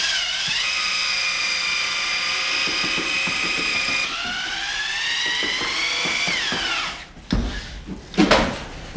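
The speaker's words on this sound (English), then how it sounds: "I chuck a large paddle mixer into my 1/2-inch drill and stir until smooth." A 1/2-inch drill with a large paddle mixer whirs steadily while stirring joint compound, its pitch dipping as the load shifts, then stopping and giving way to a few knocks and scrapes.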